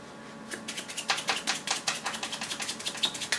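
A deck of playing cards shuffled fast and hard during a close-up magic session: a rapid, even stream of crisp riffling clicks lasting about three seconds, close and fairly quiet, with no talking.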